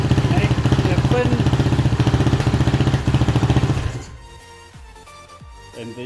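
A Suzuki LTZ 400 or LTR 450 quad engine idles loudly and steadily nearby for about four seconds, then cuts out abruptly, leaving a few faint clatters.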